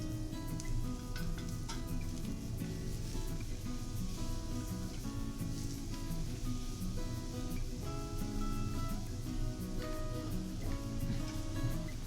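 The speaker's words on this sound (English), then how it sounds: "I'll start by frying off the onions in a teaspoon of vegetable oil for a couple of minutes" Onions sizzle and crackle steadily in a teaspoon of hot vegetable oil, a continuous close frying hiss with small pops throughout.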